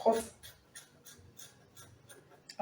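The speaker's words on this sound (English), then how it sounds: "So I'm going to cut out the back and neckline now." Scissors snip through fabric while cutting out a kimono back neckline, a series of soft rhythmic crisp cuts close by, with faint talk at the start and end.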